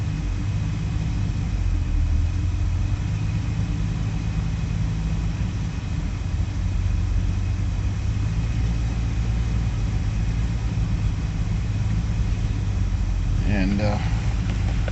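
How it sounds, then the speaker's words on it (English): A 2000 Jaguar XJ12 V12 engine idles steadily at about 1100 rpm with a slight miss, a continuous low rumble heard up close, with a brief rougher burst near the end. "It's idling good at 1100."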